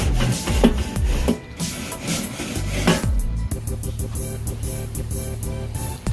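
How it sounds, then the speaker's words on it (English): A grill grate is scrubbed before ribs go on to char. Rough, close scraping strokes repeat at an uneven rhythm, with a few sharper knocks among them. "Clean the grate a little bit."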